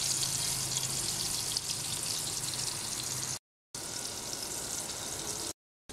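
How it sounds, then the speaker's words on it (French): A sweet crêpe cooking in a pan gives off a steady, close, even sizzle that runs without a break apart from two short cuts to silence, and no one speaks. "je vais faire cuire les deux faces pendant 2 minutes chacune"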